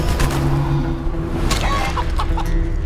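A chicken clucks loudly and steadily from a polymorph spell in Divinity Original Sin II. The short repeated clucks sit over a continuous game background.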